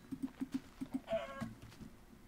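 Sheep bleating in the Minecraft video game, several short repeated bleats in quick succession, followed by a brief higher tone and softer game sounds, with no talking.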